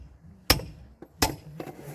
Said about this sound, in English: give it a little few taps with a hammer.